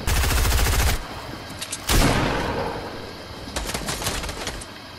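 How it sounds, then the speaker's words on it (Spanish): Fortnite gunfire crackles in two loud bursts, a dense rapid volley at the start and another sharp blast near two seconds, followed by scattered lighter shots toward the end, with no talking. "Fíjate que me están disparando."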